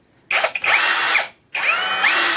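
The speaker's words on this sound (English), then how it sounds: "we have even the drill mode, where it's not going to slip anymore at all" A GoYwato 21V cordless drill whirs in drill mode in two bursts, each about a second long with a short pause between, close and loud, with its motor pitch rising and falling.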